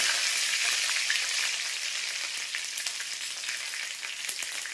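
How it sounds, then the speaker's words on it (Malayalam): Half a teaspoon of mustard seeds sputtering and crackling in hot oil for sambar, a steady dense sizzle with fine popping close by and no voices. "ഇതിലേക്ക് ഞാൻ ഒരു 1/2 ടീസ്പൂൺ കടുകിട്ട് കൊടുക്കും. കടുക് പൊട്ടിക്കഴിയുമ്പോൾ ഇതിലേക്ക് 2 കറിവേപ്പില."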